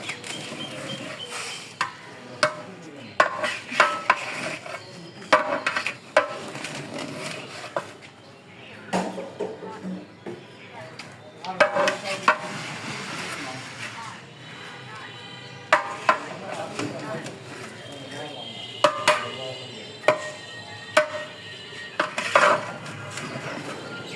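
Metal ladle clanking and scraping against a pot while spices are stirred at a Ramadan iftar gathering, with repeated sharp knocks and rattles, moderately close, and scattered voices chattering in the background.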